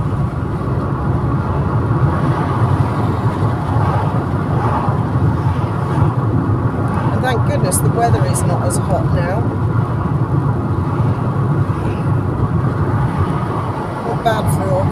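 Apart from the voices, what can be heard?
car traffic on the road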